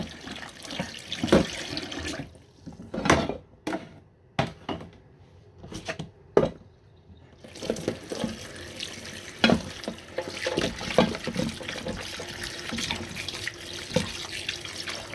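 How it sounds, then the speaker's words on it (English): Breadfruit being washed under a running kitchen tap: steady splashing water with knocks and handling of the fruit in the sink, close and fairly loud, easing into a quieter, more broken flow partway through. "So I'm gonna wash them. I'm gonna wash them thoroughly."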